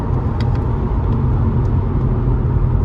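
A Jaguar XKR X150 accelerating, heard as a steady loud engine rumble with road noise from inside the car.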